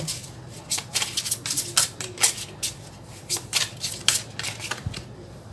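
Tarot cards are shuffled by hand in a steady series of quick, crisp riffles and slaps, close and fairly loud, repeating without pause.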